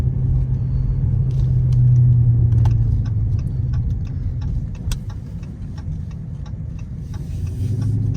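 A Charger car's engine rumbles steadily from inside while driving through a small town, a low continuous drone with light ticking and cabin rattles over it and no talk.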